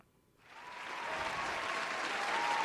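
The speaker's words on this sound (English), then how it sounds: "We got the classics like the applause sound effect." A canned applause sound effect on a talk show swells in after a brief silence and settles into a full, even wash of clapping and crowd cheer that continues steadily to the end.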